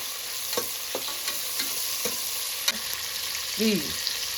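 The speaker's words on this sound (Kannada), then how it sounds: "ಸೊ ಆನಿಯನ್ ಸ್ವಲ್ಪ ಬ್ರೌನ್ ಬರೋವರೆಗೂ ಫ್ರೈ ಮಾಡಬೇಕು." Onions fry in oil for jeera rice, a soft continuous sizzle with a few scattered spoon scrapes and taps, plus a brief squeaky scrape near the end.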